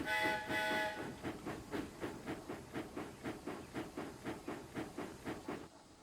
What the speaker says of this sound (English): he puffed away to collect his next train